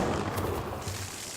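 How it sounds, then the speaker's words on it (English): A liquid nitrogen bottle bursts in water at a splashpad, giving one short, muffled boom that fades quickly into rumbling noise. "So when the bottle bursts, half the energy essentially goes up, half goes down."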